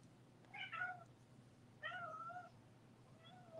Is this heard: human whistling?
no